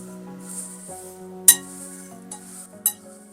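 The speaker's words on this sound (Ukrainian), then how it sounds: "Все обережно перемішуємо." A spoon clinks lightly against a glass or ceramic container while a dry spiced tea mix with cornflower petals is stirred, with two sharper clinks standing out over a soft, steady background hum.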